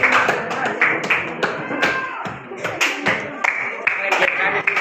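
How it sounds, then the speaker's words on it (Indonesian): Students clap for a group at a junior high school classroom session, a burst of uneven hand claps mixed with taps and classroom noise, with voices talking underneath throughout. "Silakan tepuk tangan untuk kelompok 2."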